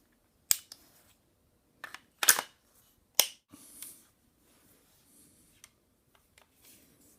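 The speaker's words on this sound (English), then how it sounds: "Now we'll reinstall the upper." An AR rifle upper receiver fitted with a LAW Tactical folding stock adapter is reinstalled, giving a few sharp metallic clicks and snaps, close and separated by quiet gaps, followed by softer handling taps.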